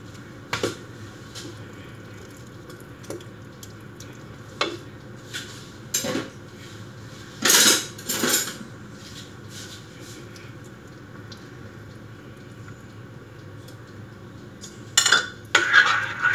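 Carrot cake batter being stirred in a bowl, with sparse utensil clinks and scrapes scattered over quiet stretches, including a few louder clattering bursts near the middle and end.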